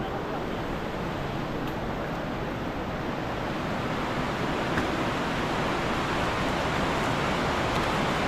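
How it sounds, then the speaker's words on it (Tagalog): A rushing waterfall gives off a steady, unbroken roar of falling water, evenly loud for the whole stretch with no voices over it. "Kuha nung lagas-gas ang talon."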